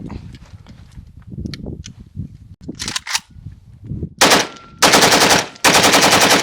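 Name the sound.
AK rifle firing rapidly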